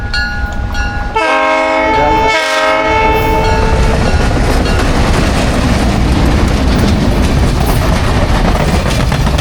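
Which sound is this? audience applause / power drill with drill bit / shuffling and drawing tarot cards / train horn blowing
train horn blowing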